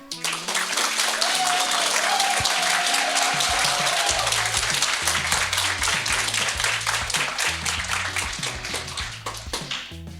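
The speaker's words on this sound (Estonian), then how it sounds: "Ning enne kui pihta hakkame, kutsume lavale aplausiga Toivo Pärnpuu." An audience applauds to welcome a guest onto the stage at a school TV event, loud dense clapping filling the whole stretch, joined partway by a low rhythmic musical thump underneath.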